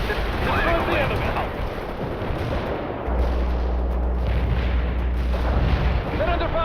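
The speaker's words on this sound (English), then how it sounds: "Mortar strike requested." Mortar strike in the World in Conflict strategy game, heard as a continuous barrage of booms and gunfire with a deep sustained rumble building midway, while a voice talks over the battle.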